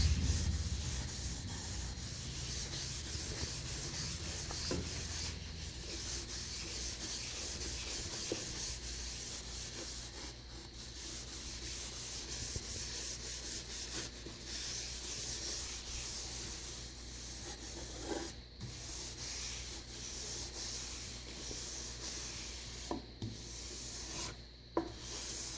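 Hand rubbing out a polyurethane finish with pumice: steady, close, continuous scrubbing and rasping strokes over a wooden surface, sustained for about half a minute with brief pauses and no talk.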